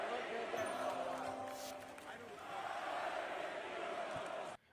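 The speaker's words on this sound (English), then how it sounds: "listening to the crowd chant "Fire Nico,"" A basketball arena crowd chants "Fire Nico" in a steady, sustained roar of many voices, loud and continuous for several seconds before cutting off abruptly.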